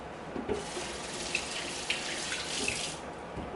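Tap water streams into a kitchen sink to rinse food processor parts, a steady close flow with a few small clinks and splash changes as pieces are moved under it.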